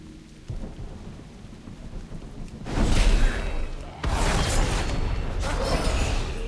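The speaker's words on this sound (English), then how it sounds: "When this game came out, it didn't have weather effects like this. Like it didn't rain." Rain pours steadily in World of Warcraft while rolling thunder booms and swells, growing louder partway through and staying heavy to the end, with no talking.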